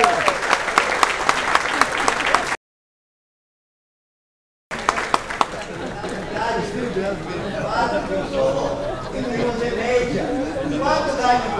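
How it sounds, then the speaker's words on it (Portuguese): Applause from an audience at a building-supply store opening in Jacarepaguá, with dense clapping and crowd voices mixed in. It breaks off for about two seconds of silence, then returns with chatter running underneath. "palmas para o Fluminense"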